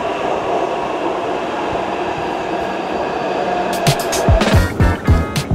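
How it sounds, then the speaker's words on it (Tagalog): Taipei MRT red line subway train at a station platform toward Xiangshan, a steady rumble of the train with rising clicks and rattling wheel clacks in the last two seconds, loud and close, no speech. "Ayan, ito pala yung train na sa likod."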